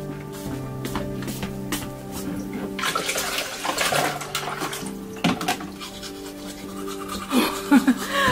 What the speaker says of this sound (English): he washed his face and brushed his teeth